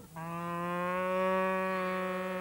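A single long, clear moo from cattle herded by Himba nomadic pastoralists in remote Namibia, close and steady, with a rich tone that swells slightly in the middle and carries with no other sound around it.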